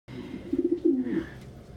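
A pigeon coos close by in a short, soft throaty burst of warbling notes lasting under two seconds, with no talk over it.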